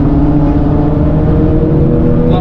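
A loud, steady engine drone close by, with a rising whine as the car pulls away quickly from a hard start in a street race in Colombia.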